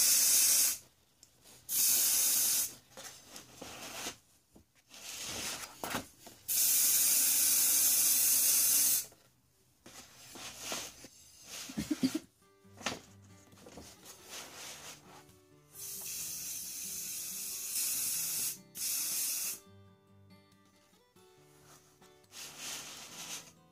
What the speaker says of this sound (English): Make sure the you don't spray from real close, because it's gonna get like all the bumps,